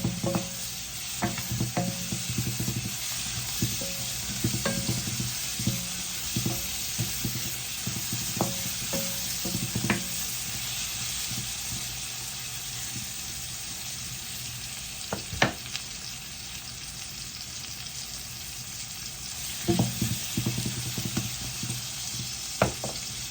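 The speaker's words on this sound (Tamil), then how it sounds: "தக்காளியும் சேர்த்து வதக்கி கொள்ளுவோம்" Tomato, fenugreek and onion sautéing in a pan for crab masala, a soft continuous sizzle broken by frequent scraping and tapping spatula strokes, a few louder knocks standing out, no voices.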